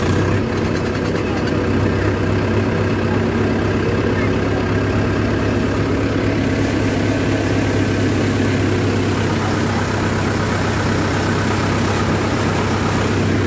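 A paddy thresher machine running, a loud continuous mechanical drone with a steady low hum that builds slightly as the machine gains speed, with no clear talk over it.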